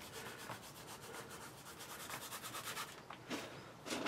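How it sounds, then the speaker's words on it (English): Dry compost mixed with sand sprinkled by hand over a seed tray, a soft continuous rustling and pattering, faint and close, with a few slightly louder brushes near the end. "get a little bit of compost in your hand and sort of sprinkle that over"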